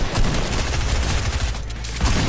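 A shotgun fires in rapid, loud, close blasts during a Fortnite match, the shots overlapping into a dense burst that runs almost to the end, with no talking over it.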